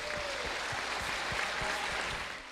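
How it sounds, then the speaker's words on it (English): Applause at the close of a panel discussion, with an even wash of clapping from a crowd and a few duller thumps underneath, heard at moderate level for a couple of seconds. "How about that round of applause for our Elite Eight?"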